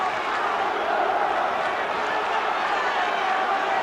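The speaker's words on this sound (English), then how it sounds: "Up comes the great Bruno chant." A large boxing crowd in a packed arena chants a fighter's name, Bruno, at Bruno v Witherspoon in 1986, a steady, loud roar of massed voices that swells continuously throughout.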